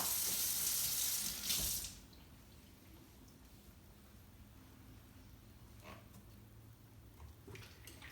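Water runs hard from a tap for a couple of seconds while rinsing, then shuts off, leaving a quiet room with faint clinks and small handling noises.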